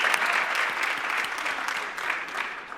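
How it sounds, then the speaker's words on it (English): A seated audience at a charity fellowship launch ceremony applauds, steady dense clapping from many hands filling the whole stretch at moderate, fairly distant loudness. "let's give a big hand of applause for Meilinda"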